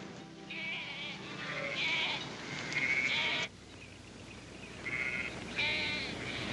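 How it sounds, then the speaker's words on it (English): Several sheep bleat repeatedly at moderate distance, overlapping wavering cries in short bursts over a quiet outdoor background. "We'll leave the sheep here with Toby."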